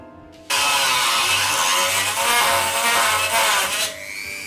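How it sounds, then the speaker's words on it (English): A rotary tool fitted with a metal cutting disc bites into aluminium sheet. A loud, continuous harsh grinding whine starts abruptly after a low motor hum, holds for several seconds with slight wavering, then drops back to the lighter spin of the motor. "We're cutting this with a rotary tool and a metal disc."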